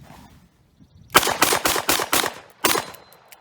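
A Taurus Model 66 revolver in .357 Magnum fires at an outdoor range: six sharp, loud shots in a quick rhythmic string, then a short pause and one more report, with no talking.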